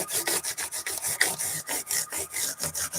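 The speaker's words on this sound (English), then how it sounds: "piece of well-worn 400 grit sandpaper. That'll polish your frets up nicely." Well-worn 400 grit sandpaper rubbed over the flat frets of a Harmony H1215 archtop guitar, a brisk rhythmic back-and-forth scratching of about a dozen close strokes, alone.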